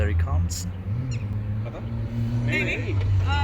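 A home-built 4x4 Maruti Baleno rally car approaching on a rally stage, its engine a steady low drone rising in pitch, with crowd chatter and spectator voices over it.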